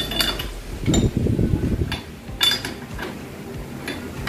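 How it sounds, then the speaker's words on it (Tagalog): Metal wrench working a 28 mm nut on the steering ball race of a Honda Click V3 scooter, producing close clanks, clinks and ratcheting scrapes in uneven bursts. "Gamit tayo ng panghigpit, 28. Sukat niya kasi nung nut, 28."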